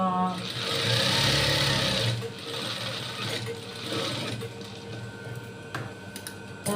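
Sewing machine stitching a bolster pillowcase, heard up close as a fast, whirring mechanical run of stitches that slows and stops into shorter bursts, with someone talking over it.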